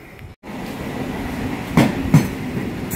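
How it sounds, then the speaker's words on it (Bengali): A train pulls into a station platform, a loud rumbling rolling noise with two sharp clacks of wheels over rail joints standing out. "তো চলো আমাদের ট্রেন চলে এসেছে।"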